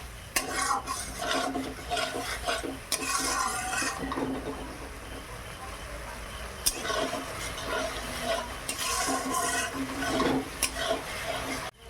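Spice paste with Kashmiri red chilli frying in a pan for aloo malai curry, a soft continuous sizzle broken by scraping and stirring clinks from the spatula, close and moderately quiet.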